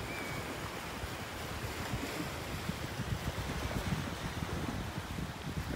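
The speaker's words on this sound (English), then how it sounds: "Isn't that beautiful, the little waves rippling over the shallow water there?" Small waves ripple over shallow beach water at North Naples, Florida, a steady, close wash of surf mixed with gusty wind buffeting the microphone, with no voices.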